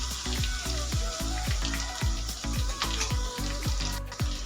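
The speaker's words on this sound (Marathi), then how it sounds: "मीडियम साईजचे 2 कांदे बारीक कट करून घेतलेले आहेत, तेलामध्ये तळून घ्यायचे आहेत" Two finely chopped medium onions frying in oil, with a steady, close sizzle and crackle beneath a repeating low tonal pulse that sounds like background music. No one is talking.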